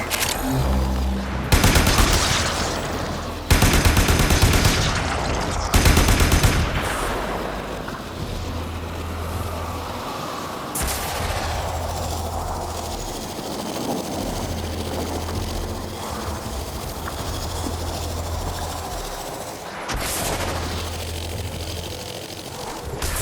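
Weapon fire in the video game Warframe comes as several loud bursts of rapid gunfire early on, then settles into quieter intermittent shots over a low pulsing game ambience, with another burst toward the end.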